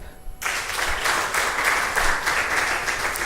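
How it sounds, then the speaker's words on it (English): An audience at a gender-based violence activism event breaks into clapping after a brief quiet moment, then keeps up a steady, moderately loud round of applause. "Please, let's clap."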